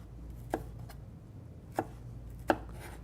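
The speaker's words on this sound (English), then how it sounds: "you flip the onion down and you continue cutting crosswise" A knife dices an onion on a cutting board, giving three crisp, separate chops at uneven intervals over a quiet background.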